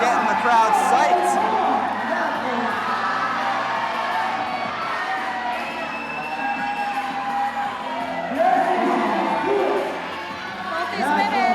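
Crowd cheering and whooping at the 2019 Yank N Yard climbing finals, a sustained roar of shouts and whistles with surges near the start and around eight seconds, with a commentator talking over it.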